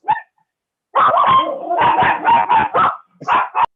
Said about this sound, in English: Your dogs want to say hello too?